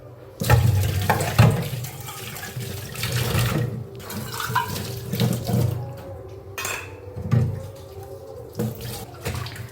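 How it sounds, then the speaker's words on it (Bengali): A few pots and dishes being washed under a running kitchen tap: steady splashing water with intermittent clinks and knocks of utensils, close by, rising and falling in loudness, with no talk. "এখানে 2-4টা যে বাসন আছে এগুলোকে একটু ধুয়ে নিই"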